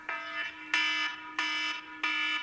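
A kitchen oven alarm goes off while pizza bakes, sounding four loud, even electronic beeps in a steady repeating rhythm, close and alone with no talking.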